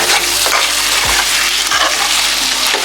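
Biryani masala fries in a pot as it is stirred. The masala is starting to stick to the bottom. A loud, continuous close sizzle carries a few scraping strokes from the stirring.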